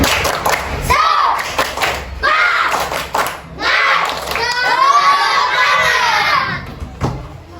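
Fourth-grade pupils in a primary classroom do a clap routine, crisp patterned clapping in short rhythmic bursts alternating with loud shouted group chanting, close and energetic.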